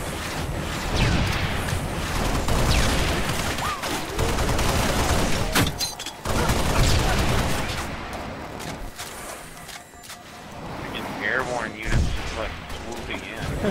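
Beam rifle shots and rocket blasts in Halo: Reach multiplayer, a chaotic run of booming explosions and sharp cracks at varied distances, with excited commentary talking over much of it.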